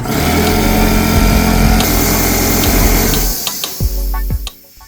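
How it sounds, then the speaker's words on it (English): A Porter Cable 6-gallon air compressor runs loudly and steadily while filling its tank, a dense mechanical hum with rapid pulsing that abruptly cuts off, leaving a few clicks and hiss. "I will now run the air compressor to fill the 6-gallon tank at 150 psi"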